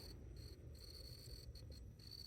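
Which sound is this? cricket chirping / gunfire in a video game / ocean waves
cricket chirping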